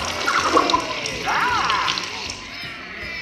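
Water spraying onto the audience during the Muppet Vision 3D theme park show at Hollywood Studios, a hissing splash that rises sharply with squeals and voices mixed in, then fades out.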